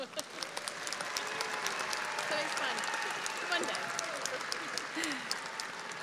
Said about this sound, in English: Let's honor our graduates with a round of applause.